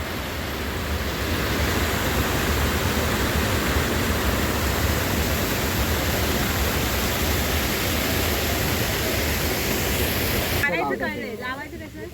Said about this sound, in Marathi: हा एका नदीचा ओढा आहे.